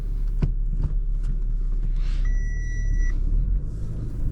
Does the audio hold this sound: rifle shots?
no